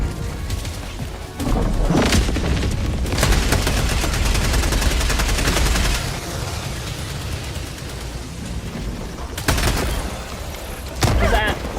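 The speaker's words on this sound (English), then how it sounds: "Firing orbital strike." An orbital strike in the Helldivers video game pounds down in heavy, roaring blasts with a dense rattle of rapid explosions, loud and sustained across the clip, with sharper surges near the start and end.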